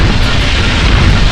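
A cannon blast in Spyro: Enter the Dragonfly, a single dense booming burst fired at birds, loud and sustained with a rumbling low body.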